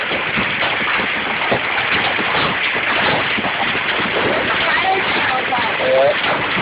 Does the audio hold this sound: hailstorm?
yes